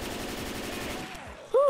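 Rapid automatic gunfire in the video game Left 4 Dead 2, a steady stream of shots that cuts off near the end, followed by a sudden loud shout.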